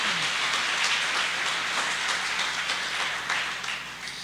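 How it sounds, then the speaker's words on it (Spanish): Steady, dense applause from a large church congregation, a continuous wash of clapping at even loudness with no voices over it. "Dale un aplauso fuerte al Señor."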